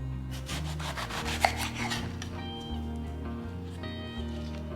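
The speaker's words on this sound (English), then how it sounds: "I'll just rotate my eggplant and just trying to get even slices as much as I can" A knife cuts through eggplant on a cutting board, heard as a few close rasping strokes early on, with background music running underneath.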